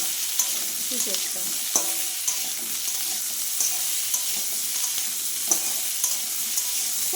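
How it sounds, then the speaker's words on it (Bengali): Young jackfruit fries in oil with salt in a pan, a loud, continuous hiss and crackle with regular spatula scrapes and taps recurring about every half second. "লবণটা দিয়ে একটু ভেজে নেব আমি"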